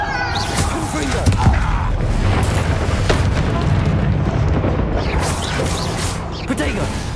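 Confringo blasting spells in Hogwarts Legacy make a loud, continuous string of booming bursts and crackling impacts, with a voice heard over the combat noise.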